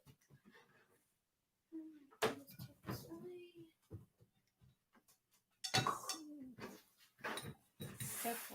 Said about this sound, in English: Now I'm gonna clean up my workspace.